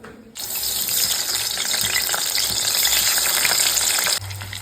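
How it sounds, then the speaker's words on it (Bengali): Loud, steady sizzling of potatoes frying in hot mustard oil, a dense crackling hiss that runs almost the whole clip before cutting off abruptly. "আলুটা হালকা করে ভেজে নিচ্ছে"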